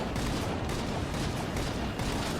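Rapid, dense gunfire from a science cannon in the Enter the Gungeon video game forms a continuous barrage of loud shots that fills the whole stretch with no pauses.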